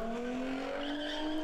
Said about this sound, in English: They took over an intersection and watched as cars performed donuts for the crowd